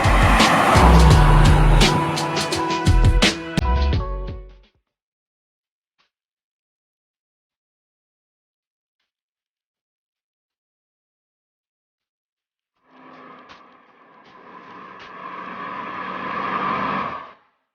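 A 1999 Mercedes-Benz CLK W208 Elegance with a 4.3-litre V8 makes a loud, harmonically rich engine sound, then falls silent for several seconds before a quieter, rising engine drone returns.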